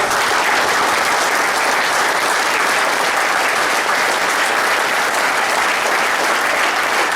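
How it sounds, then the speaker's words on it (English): Audience applause and cheering at a talk, with loud, dense clapping from a large crowd that runs steadily and without a break for over seven seconds. "let's end it with a round of applause and 3 cheers"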